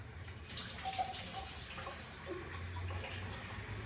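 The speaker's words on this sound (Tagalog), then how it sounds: "naglalagay ako ng mainit na tubig and then lalagyan ko din siya ng maligam-gam" Hot and lukewarm water is poured for a sore-throat home remedy, a faint, steady trickle with small splashes and drips, quiet and close with no talk.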